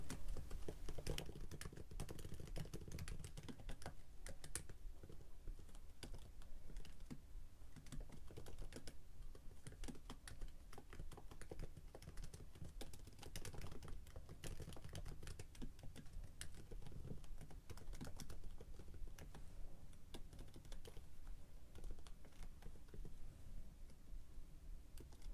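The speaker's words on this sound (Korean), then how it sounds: "키보드의 하이픈을 3번 누르면" Continuous rapid typing on a computer keyboard, dense steady clicking of keys close up throughout, with no one speaking.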